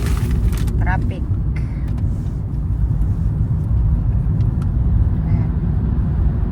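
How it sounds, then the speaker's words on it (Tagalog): Road traffic inside a short tunnel on the way to Totsukawa makes a loud, steady rumble of engines and tyres that echoes throughout, with no clear separate vehicles passing. "Traffic."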